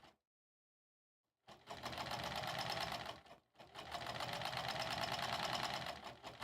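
An embroidery sewing machine stitches a pillow cover in two rapid, steady bursts of needle chatter, separated by a short pause after an opening stretch of silence.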